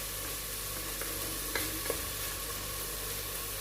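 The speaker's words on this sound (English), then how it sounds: "I'm going to be frying this pepper and onions for like 30 minutes" Pepper and onions frying in groundnut oil for okra soup, a steady close sizzle with occasional soft stirring scrapes and light pops, no voices.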